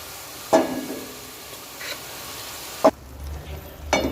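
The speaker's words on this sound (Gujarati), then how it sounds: "હવે આપણે બાફી મૂકેલી ખીચડી નાખી દઈશું આમાં." Boiled khichdi dropped into sizzling masala in hot oil, with a low frying hiss punctuated by three loud thuds and scrapes as it lands and is pushed around the pan, close by.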